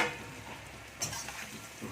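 Spinach muthia frying in a hot tempering with asafoetida, a steady soft sizzle with light stirring over a short moment.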